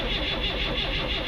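A 1965 Datsun car engine cold-starts, giving a short burst of loud, dense mechanical churning that stays steady and close, with no talking over it.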